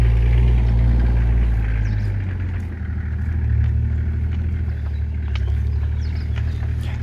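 A 4x4 vehicle pulls away past a Toyota at a 4x4 RV campsite, its low engine rumble loud and close at first, then easing into a steadier, slightly fainter drone as it drives off.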